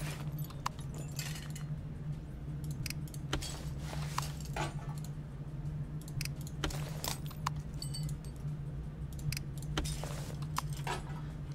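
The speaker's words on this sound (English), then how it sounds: "let's go ahead and throw in this spark plug here" Metallic clinks and jangling taps of a spark plug and engine parts being fitted on a car in Car Mechanic Simulator 2014, repeated in irregular bursts over a steady low hum.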